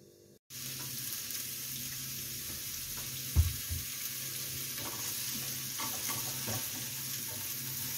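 A small knob of butter sizzles in a hot pan, a steady close frying hiss with a couple of soft clinks, no talking.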